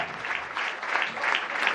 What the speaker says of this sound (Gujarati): જોરદાર તાળીઓ થઈ જાય એમની માટે